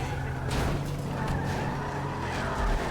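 A car skids in GTA 5, with brief tire screeches and engine rumble over a busy game background, moderately loud with no talking.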